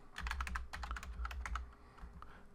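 Rapid bursts of close keystrokes on a computer keyboard, clicking in quick uneven clusters that thin out toward the end, with no voices.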